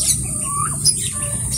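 Turkeys squawk in a backyard pen, a few close, shrill calls over a steady background hiss.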